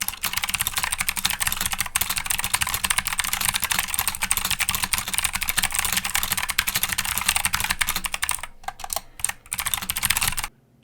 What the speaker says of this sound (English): Today I'm going to show you how to make your budget keyboard go from sounding like this